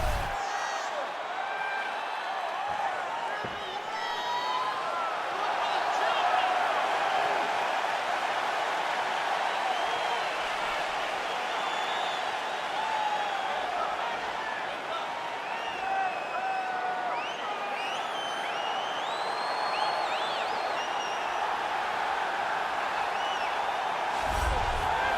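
Arena crowd noise from EA Sports UFC 4 before a flyweight championship fight, a sold-out crowd: a loud, steady wash of cheering and murmur with scattered whoops, continuous throughout with no clear breaks.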